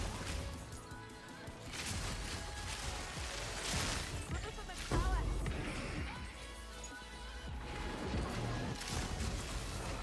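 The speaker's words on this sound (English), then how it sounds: "The explosion!" Explosions in Path of Exile 2 with a Huntress using Lightning Arrow: dense, continuous crashing blasts and pops, one heavy boom near the middle, loud and layered over game music.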